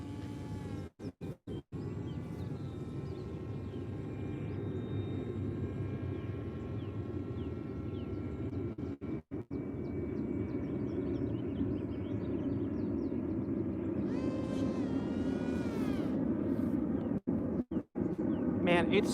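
A small airplane drones steadily while circling around to retry a landing on its first flight, with a continuous engine hum and brief interruptions.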